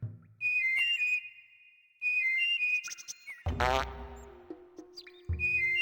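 Abe whistles in the video game Oddworld: Abe's Oddysee, giving short two-note whistled phrases repeated several times, with a low rumbling sound effect midway through.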